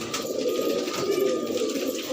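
Fancy pigeons, a green female with a red neck ring among them, coo steadily and close by in a soft continuous murmur for about two seconds with no talking.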